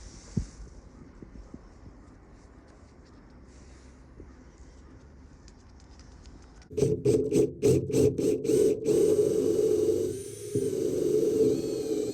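Quiet scraping and faint taps, then a power drill whirs loudly in short bursts before running steadily, biting into wood close by while installing a manual windlass on a sailboat.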